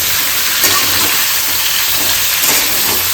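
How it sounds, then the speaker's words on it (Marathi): Tempering spices crackle in hot oil, producing a loud, continuous hissing sizzle up close, with a couple of brief sharper spits and no talking. "तेलात फोडणी दिल्या बा."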